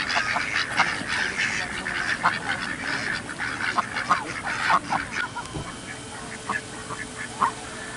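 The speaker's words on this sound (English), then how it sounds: "Look at all these ducks." Several ducks quack in bursts close by while drinking water, overlapping calls rising and falling over a background murmur, with brief pauses between.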